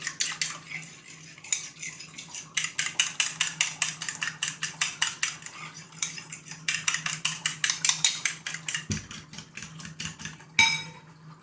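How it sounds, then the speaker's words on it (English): Rapid, steady metallic clinking as a fork or whisk beats eggs in a bowl for French toast, loud and close, in fast rhythmic bursts with brief pauses and a final clack near the end, no speech. "You want to make sure that the egg is completely beaten"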